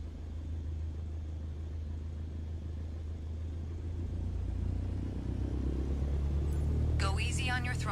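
An aircraft engine in a flight simulator game rumbles low and steady, then gradually rises in power as the throttle comes up to taxi, with a voice talking briefly near the end.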